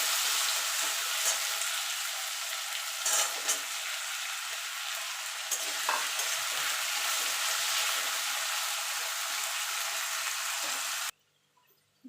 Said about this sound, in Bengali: এবার নারকল আলু একটু লাল লাল করে ভেজে নেবো